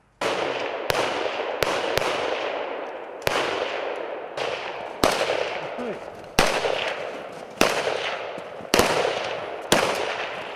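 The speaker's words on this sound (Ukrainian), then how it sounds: "Зараз буде проводитись заняття вогневої підготовки." Gunfire rings out during military firing training at a range near a border. About a dozen sharp, loud single shots come at irregular intervals, each one followed by a long echoing reverberation.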